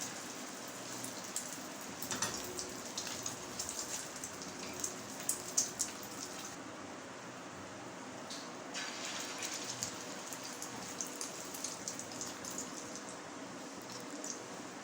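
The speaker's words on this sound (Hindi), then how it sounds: "नॉर्मल आंच में फ्राई करना है।" Beef shami kababs frying in a pan over medium heat give a steady, dense sizzle like rain throughout, with small crackling pops here and there.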